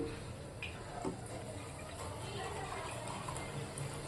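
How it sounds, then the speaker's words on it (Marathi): Water poured into chicken gravy cooking in a pot on a gas stove at full flame, a faint, steady trickle and bubbling hiss lasting several seconds, no clear talking. "मी थोडंसं अजून पाणी टाकणार आहे"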